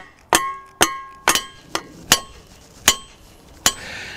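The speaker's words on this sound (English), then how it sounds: "so I'm just gonna whack it into place, bolt it up" Seven sharp, separate hammer blows knock a big wooden trebuchet arm extension into place, each strike ringing with a bright, clinking edge and spaced irregularly about half a second apart.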